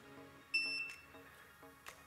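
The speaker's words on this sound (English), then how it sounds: "you could hear it just beeped" An electric standing desk's control panel gives a short, high electronic beep after a reset with the down button held, followed by a fainter second chirp near the end in a quiet room.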